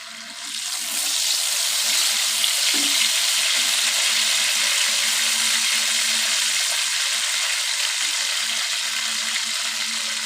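Whole cumin seeds sizzling in hot ghee, a loud, steady hiss that starts suddenly after a quiet second and continues evenly, close up and with no voices.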